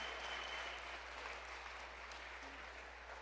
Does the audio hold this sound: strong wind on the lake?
no